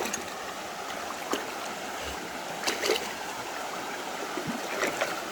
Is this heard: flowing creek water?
yes